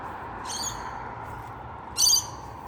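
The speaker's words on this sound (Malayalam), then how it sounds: "രാവിലത്തെ പക്ഷികളും" Morning birds in Bella Vista, a Sydney suburb beside Baulkham Hills, give two short, bright bursts of calls, one early and one louder near the end, over a steady low outdoor hum.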